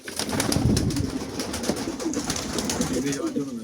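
Giribaz and other breed pigeons at a pigeon sale in Ashoknagar coo softly and repeatedly amid busy, noisy surroundings with some murmuring voices.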